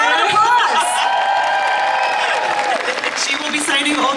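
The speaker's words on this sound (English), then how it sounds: "round of applause" Applause and cheering from a convention audience at a comic con Q&A in Aberdeen, Scotland, with whoops over the clapping and loud voices talking on top throughout.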